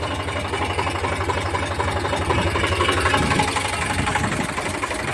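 An Eicher 368 tractor engine running steadily near at hand with a loud, even diesel chug and rapid knocking pulse, holding constant throughout.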